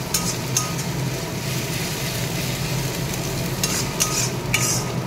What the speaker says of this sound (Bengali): এবার এটাকে ভালো করে কষাবো পেঁয়াজের সাথে।